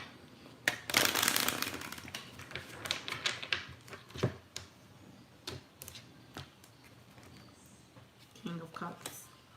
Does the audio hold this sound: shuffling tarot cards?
yes